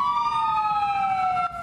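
Ambulance siren wailing loud and close in a steady, slowly falling tone, cutting off abruptly near the end.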